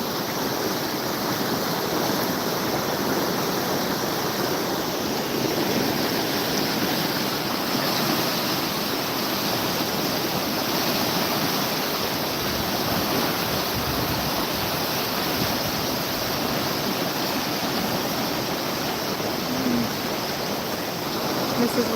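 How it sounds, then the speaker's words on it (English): Rushing floodwater rapids on the White River in Enumclaw, Washington, roaring as a steady, dense broadband wash with no break, close and loud, with trees being swept along in the surge. "You can see these rapids are insane."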